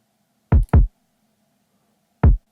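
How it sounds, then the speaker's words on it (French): A Big White Beats kick drum sample plays dry with no processing: three deep, punchy bass thumps, two in quick succession and then one more after a pause, over near silence. "donc un kick de Big White Beats que je sature gentiment"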